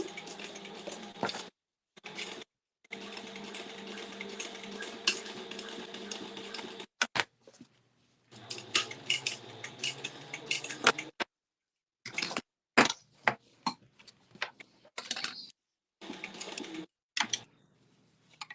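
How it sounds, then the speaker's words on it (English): A home sewing machine stitches a pocket onto a clamshell sling in bursts of steady whirring, each run a few seconds long and separated by short pauses, close and moderately loud with no talk. "I'm sewing my pocket now."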